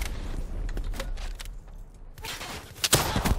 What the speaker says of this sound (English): Say hello to a rocket.